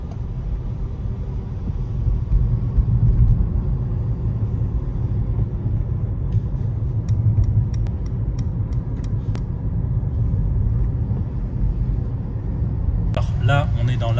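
Hybrid e-performance GT four-seat car starting up and its engine running in sport mode, a low steady rumble heard from inside the cabin, with someone speaking over it and a few faint clicks.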